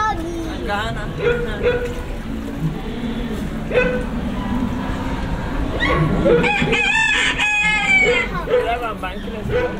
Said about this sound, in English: Look, a chicken.